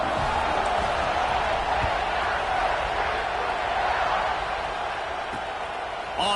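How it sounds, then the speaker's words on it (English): Football stadium crowd roaring steadily at a night game as the home offense takes its first possession, a dense continuous wall of cheering with scattered whoops throughout, loud and sustained without a break. "these fans, they get something to cheer about with that first offensive possession"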